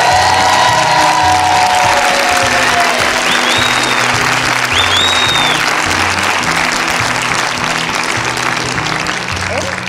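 A lively concert audience claps and cheers loudly and continuously for a French singer's interview event held at her former university, with whoops rising through the dense applause.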